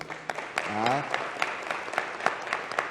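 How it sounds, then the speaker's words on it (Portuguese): Applause for Bruna Tomasi at a formal honours session in a city council chamber, a crowd clapping steadily with a voice speaking briefly over it. "uma salva de palmas a Bruna"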